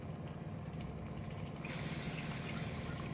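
Water pours steadily into a pot of pork for a Goan jeerem meerem dish, a continuous splashing fill that grows brighter and louder partway through, close and without talk.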